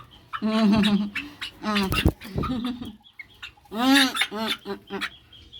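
Young frizzle chickens cluck and squawk in short, loud, harsh bursts at close range, some calls rising into screechy cries, with brief pauses between outbursts and no talk over them.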